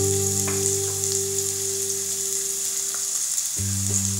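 Finely chopped onions fry in a pan with a continuous sizzle. A steady low electrical hum runs underneath, with a few faint clicks.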